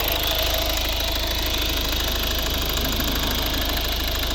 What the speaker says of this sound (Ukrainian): Дуже класна робота, тиха двигуна.